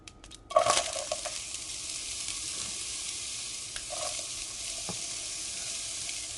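Onion hits hot olive oil in a soup pot with a sharp burst of sizzle, followed by a steady, soft frying hiss and a few faint stirring clinks, with no talking.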